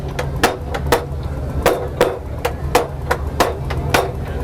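A cooper drives hoops onto a wooden barrel with a hoop driver and hammer at a village terroir festival, sharp metallic strikes landing in an irregular, steady rhythm over a murmuring outdoor crowd.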